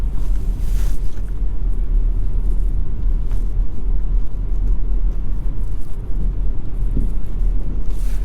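A 2022 VW Tiguan SEL R-Line with a 2-liter turbo engine cruises along, heard from inside as a steady, loud low road-and-engine drone with no one speaking.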